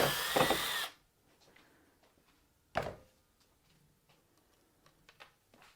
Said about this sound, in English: So I'm going to drill down through the cake like we did before.